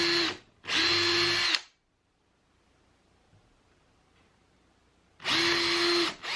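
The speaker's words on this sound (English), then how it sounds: "go ahead and get this thing pre-drilled." A power drill pre-drilling wood whirs in three bursts, two short ones close together, then a pause of near silence before another run.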